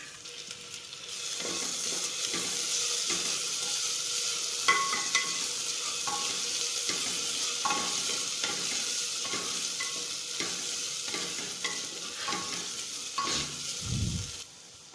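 Onion fries in a pan as ginger garlic paste is added, giving a continuous close sizzle. Scraping stirs and light clinks of a utensil against the pan recur throughout, with no voices.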